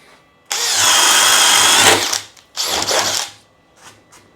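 A drill drives a 1-inch Bosch spade bit through lumber at speed 2: a loud, steady whirring bore of about a second and a half, a short pause, then a second briefer burst that trails off into quiet.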